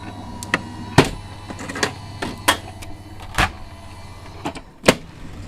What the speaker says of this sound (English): So we're just running that through the die cut machine.